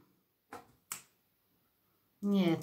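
Two crisp, close finger snaps about half a second apart in a quiet room, followed after a pause by a voice starting to speak.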